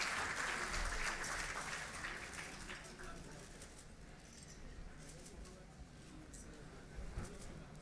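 Applause from an audience at a World Hepatitis Day 2016 event in a hall, a broad steady patter that is strongest at the start and thins to a lighter, continuing clatter.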